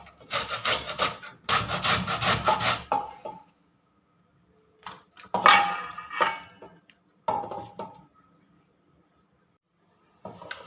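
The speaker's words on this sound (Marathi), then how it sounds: "तर मी किसणीच्या साहाय्याने ह्याला व्यवस्थित किसून घेते आहे." Cabbage being finely grated on a hand grater for paratha, a close, rough scraping in quick rhythmic strokes, a long run followed by shorter bursts separated by silent pauses.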